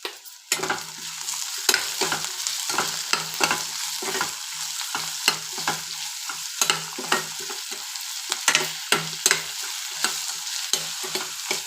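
Capsicum and carrot stir-fry in a pan, with repeated scraping and tossing strokes over a soft sizzle. The strokes land close and fairly loud in an uneven rhythm, and no voices are heard.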